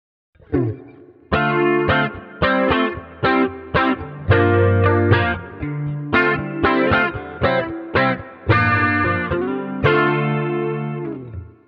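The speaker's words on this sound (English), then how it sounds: "Sounds like a very standard jazz chorus with the chorus and a bit of reverb and delay." An electric guitar through a Positive Grid Spark Mini amplifier, on a standard jazz chorus tone, plays a sequence of strummed chords with a shimmering chorus effect, each chord ringing out with reverb and delay trails.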